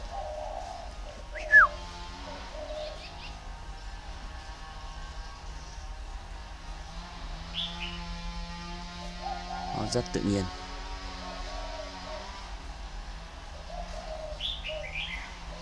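A red-whiskered bulbul, a partly tamed decoy bird, sings in short whistled and chirping phrases scattered through the clip, fairly close, with someone talking over much of it.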